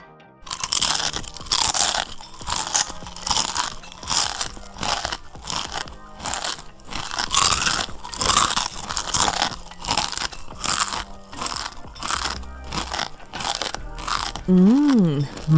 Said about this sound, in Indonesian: Selain itu juga tekstur kriuknya renyah, enggak yang keras ya guys.